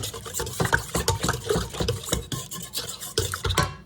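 Ingredients for sourdough bread, including salt, being stirred in a bowl, giving a steady run of close scraping and tapping strokes in an irregular rhythm, with no one talking.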